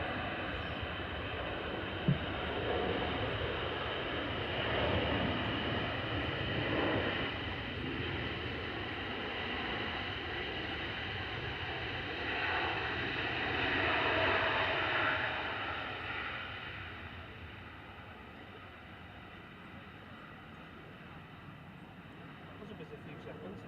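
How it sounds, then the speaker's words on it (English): Qatar Airways Airbus A350-1000 landing at Manchester Airport, a broad distant roar swelling as reverse thrust engages, then fading away. "Qatar flight 27 from Doha has just come in, A7 AOA and A350 1000. Really whacked on the reverses as well."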